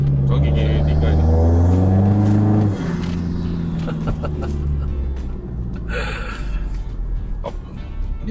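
A turbocharged BMW M4 xDrive running on a dyno rises in a strong rising engine drone in third gear, then drops off sharply, with people talking over the lingering mechanical noise.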